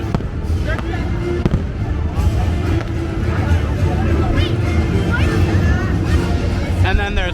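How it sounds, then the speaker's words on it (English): Fireworks at Walt Disney World booming and crackling all around, with loud rapid bursts layered over excited chatter and cheering voices from a nearby crowd. "These are the back fireworks."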